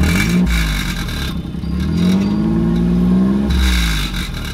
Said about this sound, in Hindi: पीछे से इसकी एग्जॉस्ट की आवाज़ और सुना देता हूँ